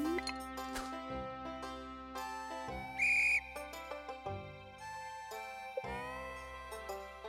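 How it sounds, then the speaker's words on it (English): A shrill, steady whistle in the Stardew Valley farming game blasts loudly for about a third of a second, set amid bright chiming game music with tinkling melodic notes and plucked tones. "that sounded less like a whistle and more like someone screaming"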